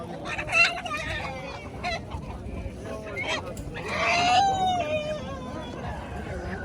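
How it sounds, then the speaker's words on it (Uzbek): Chickens and roosters clucking and calling close by, overlapping squawks with a louder outburst near the end, amid farmyard chatter. "Qora xo'roz"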